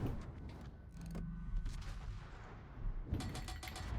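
Heavy naval gunfire from a Yamato battleship in the World of Warships video game: a deep rumbling salvo booms and rolls on for several seconds, loud and continuous, with a second burst near the end.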